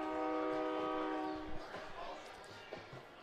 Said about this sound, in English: Was that a real train?